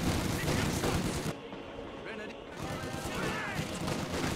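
Machine gun fire in Company of Heroes 2, a dense, continuous roar of rapid shots and battle noise that briefly thins, then swells again, with distant rattling bursts throughout.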